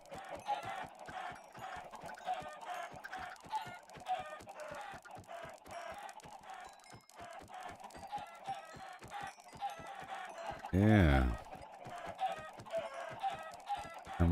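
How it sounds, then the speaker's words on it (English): Minecraft chickens cluck repeatedly in a steady, rapid stream, with a baby chicken's higher-pitched clucks mixed in. A brief louder burst stands out near the end, and one short spoken word is barely heard. "So the higher pitched cluck is the baby"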